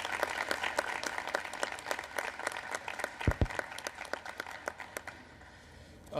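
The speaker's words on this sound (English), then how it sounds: "how about another round of applause for really a tireless public servant and all the work he's done" A crowd applauds at a National Space Council meeting at Kennedy Space Center, many hands clapping densely and steadily before the sound tapers off near the end.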